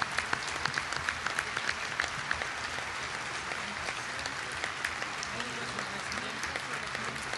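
Sustained audience applause for doctors, residents and hospital staff at the opening of a medical-surgical unit in Juárez, a dense steady roar of many hands with no pauses, with some voices mixed in.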